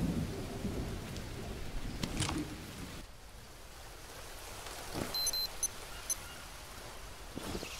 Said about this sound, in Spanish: Va a empezar a llover.